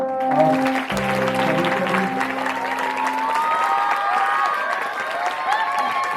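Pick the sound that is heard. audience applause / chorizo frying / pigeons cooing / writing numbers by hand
audience applause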